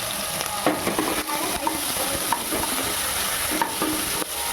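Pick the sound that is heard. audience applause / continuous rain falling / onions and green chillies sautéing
onions and green chillies sautéing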